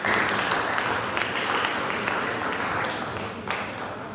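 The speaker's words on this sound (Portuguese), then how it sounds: "Quem pode aplaudir o Senhor?" A church congregation applauding, a full room of steady clapping with some crowd murmur mixed in, easing slightly in loudness toward the end.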